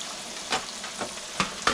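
Grass carp frying in a pan of oil gives a steady, close sizzle, broken by a few sharper crackling pops.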